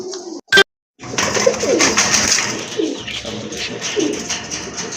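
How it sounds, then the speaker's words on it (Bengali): Pigeons coo in low, rounded, repeated calls, close and fairly loud, after a brief sharp knock and a moment of silence. No one speaks. "মাশাল্লাহ আরেক জোড়া কবুতর, সুয়াচন্দন কবুতর।"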